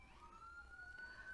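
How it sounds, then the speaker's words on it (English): Police siren passing outdoors, a faint rising wail heard at a distance under a low background rumble. "sorry about the sirens"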